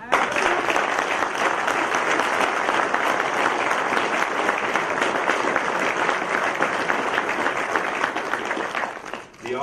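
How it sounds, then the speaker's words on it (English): Loud, sustained applause from a large audience fills an awards ceremony for the 2019 U.S. Army Small Arms Championships, holding steady throughout before tapering slightly at the very end. "Give him a round of applause."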